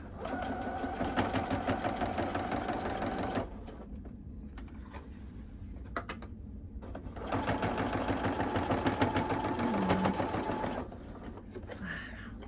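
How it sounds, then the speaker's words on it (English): A sewing machine runs in two steady, fast-stitching bursts, pausing briefly between them, loud and close. "My sewing machine is just being ornery today."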